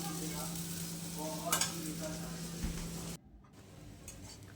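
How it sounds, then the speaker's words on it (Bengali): Potatoes frying in a pan in a home kitchen, a steady close sizzle with stirring scrapes for about three seconds, then cutting off to a much quieter room. "আলুটা ভেজে নিচ্ছি,"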